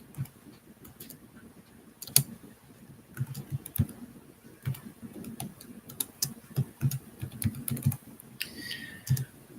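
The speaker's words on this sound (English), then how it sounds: "I'll type it out." Irregular bursts of clicky computer keyboard typing, close and moderately loud, with scattered sharper key taps and short pauses, no speech.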